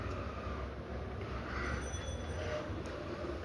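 Minecart riding along rails in Minecraft, a continuous low rumbling clatter that stays steady and fairly quiet for the whole stretch, with no voices.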